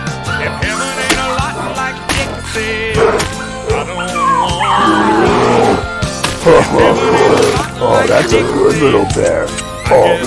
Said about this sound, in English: Be a good little puppy.